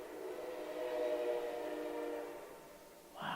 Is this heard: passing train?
yes